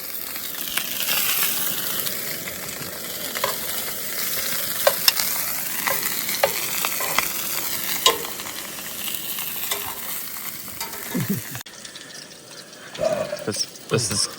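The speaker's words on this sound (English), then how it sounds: "We are cooking the meat on the fire over there." Meat sizzles and crackles on a campfire at a back-country camp in New Zealand, with a steady frying hiss and scattered pops and clinks throughout, and a person speaks briefly in the background.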